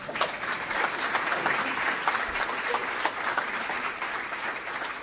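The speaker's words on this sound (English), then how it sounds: "So you've cut off your own applause though, Carol." Steady applause from a conference audience after an opening address, many hands clapping continuously at an even level from start to finish.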